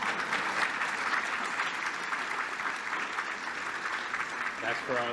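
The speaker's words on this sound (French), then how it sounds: "Ces applaudissements sont pour la bienheureuse Vierge Marie" Audience at a French-language talk breaks into sustained applause, a dense, even roar of many hands clapping from start to finish, with a voice cutting in briefly at the very end.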